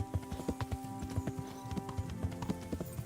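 A horse's hooves clip-clop in the medieval video game Kingdom Come Deliverance, a quick, steady run of close hoofbeats over a soft, tonal game background.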